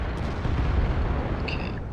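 Artillery fire in the World of Tanks video game lands as a deep rumbling boom that rolls on as a low, heavy roar, with a faint high-pitched tone near the end.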